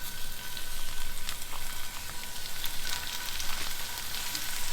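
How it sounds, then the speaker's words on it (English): Food for smoked queso sizzles steadily in a pan over medium heat, a dense crackling hiss with scattered pops, close and continuous without any talking. "Now I got my pan right around a medium heat, and it's going to sizzle a good bit."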